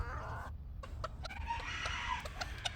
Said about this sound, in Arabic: ديك و5 دجاج بياضين بعون الله